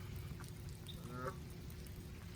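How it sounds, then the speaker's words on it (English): Ducks or geese by a river give a short run of faint honking quacks around the middle, set against a steady low hum of outdoor background noise. "Oh, they're quacking. Quacking like a duck."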